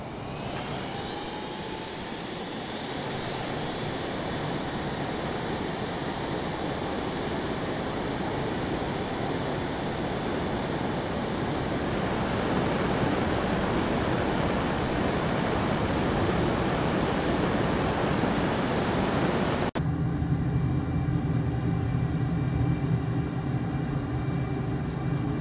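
An F/A-18 Super Hornet taking off in Microsoft Flight Simulator: a loud, steady broadband jet roar that swells as thrust builds, then shifts character near the end, heard alone without voices.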